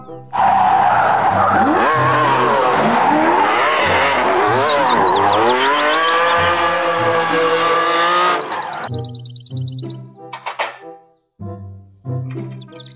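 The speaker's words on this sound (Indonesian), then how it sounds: "Mobil balap." Toy race car sound effect: a loud, continuous revving roar with rising and falling whines and skidding squeals for about eight seconds, followed by a few short, separate electronic bursts and chirps.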